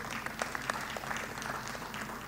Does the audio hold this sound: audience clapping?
yes